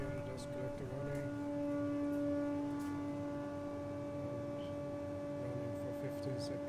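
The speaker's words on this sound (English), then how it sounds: "You can hear the dust collector running" A workshop dust collector runs as a steady drone with a strong low hum and sustained tonal lines, holding constant for the whole stretch with faint background sounds and no speech over it.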